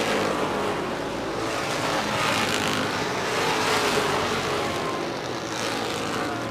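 Race car engines on a short oval track, a steady distant roar of several cars circling together, blended into a broad, continuous wash of sound.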